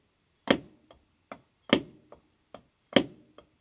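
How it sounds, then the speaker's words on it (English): A drummer plays two Swiss Army triplets and then a flam tap, so loud accented strokes alternate with softer ghost taps in a steady pattern. The hits are close and crisp, with nothing else sounding. "2 Swiss Army triplets and 1 Flam tap."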